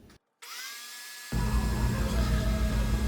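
A power router whines up to speed, then bites into wood as a half-inch slot is cut along a drawer-slide piece against a stop block, the cutting noise louder and rougher than the free spin.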